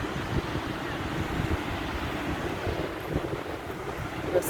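Sea waves wash along the Büyükçekmece shore in a continuous low rumbling surge, mixed with wind buffeting the microphone, steady and fairly close without any voices.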